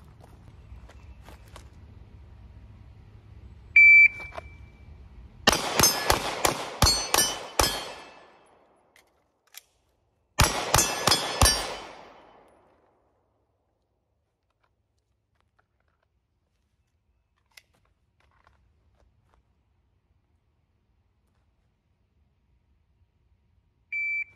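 Gunshots at a shooting range ringing steel targets, fired in two close rapid strings of sharp cracks with a few isolated shots between them, otherwise quiet outdoors with a faint beep.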